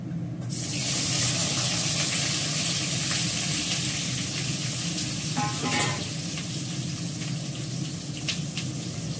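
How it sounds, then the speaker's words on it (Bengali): Raw vegetables sauté and sizzle in a hot pan with onion, garlic and ginger paste, a loud continuous frying hiss with a few scraping stirs and clinks partway through. "দিয়ে এটা ভালো করে কষিয়ে নেব"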